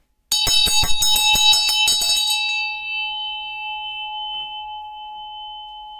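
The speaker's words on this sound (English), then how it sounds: "I love the healing vibrations that comes from the crown chakra bell" Crown chakra bell rung for energy clearing, a rapid flurry of bright metallic strikes for about two seconds, then a single clear tone ringing on and slowly fading, close and alone.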